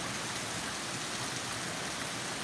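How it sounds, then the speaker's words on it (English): Steady rain from a passing tropical storm falls continuously as a dense, even hiss with no breaks and no voices. "while we are getting rain here in the last day, 2 days"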